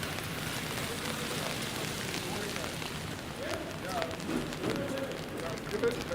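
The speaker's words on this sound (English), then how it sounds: "I would say this is just rain now." Steady rain falls on a downtown Toronto street at just above freezing, a dense, even patter with some wet splashing. Voices talk faintly in the background, and a few brief tonal sounds come through near the end.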